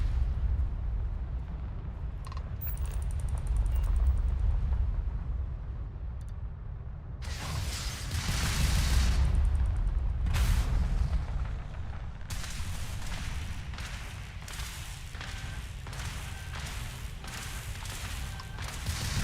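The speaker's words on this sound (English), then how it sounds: "What button is launching missiles? There we go." Spaceship missiles launching during a Starfield space battle: a steady low rumble of engines carries heavy booming bursts and sharp crackling impacts, with a loud surge around the middle and a dense run of rapid blasts toward the end.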